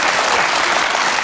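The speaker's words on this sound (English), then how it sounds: "Usually gets a round of applause for some reason." A studio audience at a celebrity talk show breaks into dense, continuous applause that is loud and close, with no voices over it.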